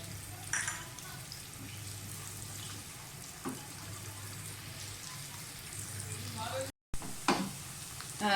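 Finely chopped onions frying in oil in a pan for an aloo shimla mirch curry, a steady sizzle with a low hum underneath, a few scraping stirs and a brief gap near the end.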